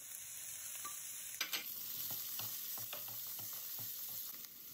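Shredded carrots, grated garlic and corn kernels frying in oil for lamb fried rice, a constant sizzle with a spatula scraping and stirring in irregular taps, close up.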